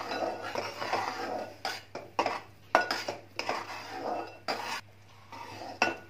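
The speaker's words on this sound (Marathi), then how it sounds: "आता सर्व मिश्रण हे स्लो फ्लेमवरच ढवळत राहायचं आहे हा पाक।" A spoon scrapes and clinks against a pan as a sugar syrup mixture with ghee, cardamom and nutmeg for sesame til ladoo is stirred on a slow flame, in uneven close strokes with short pauses.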